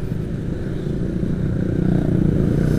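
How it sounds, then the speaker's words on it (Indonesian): A Kawasaki adventure motorcycle engine runs with a low, rough, steady rumble that builds slightly louder over a few seconds. "Itu keren sih motornya, motor apa sih"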